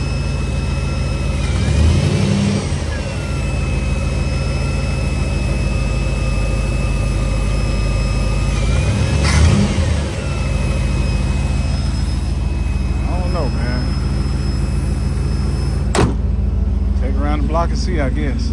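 A car engine fitted with a rebuilt Edelbrock 650 carburetor runs at a loud, steady idle with a couple of blips of revving, and a high whine runs through it. Someone speaks briefly near the end.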